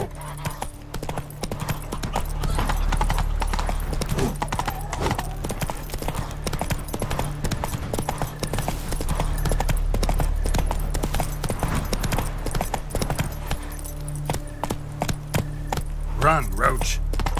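Roach the horse gallops in The Witcher 3, hoofbeats clip-clopping steadily and loud for the whole stretch, with tack jangling along and a low game music bed underneath.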